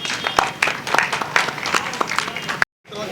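Audience at a blanket distribution event and poetry gathering clapping, scattered bursts of applause with talk underneath, ending in a brief cut to silence.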